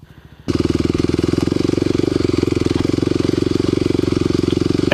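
A Kawasaki KLX250sf motorcycle engine pulls steadily under light throttle, a close, even, rapid thumping beat that kicks in after a brief quieter idle and holds loud and constant.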